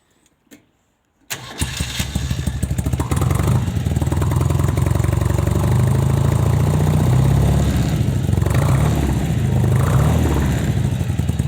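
A Dnepr MT-11 motorcycle fitted with BMW R100 parts is started on the electric button: a brief starter whir, then the engine catches and settles into a loud, close, steady running rumble with small throttle swells.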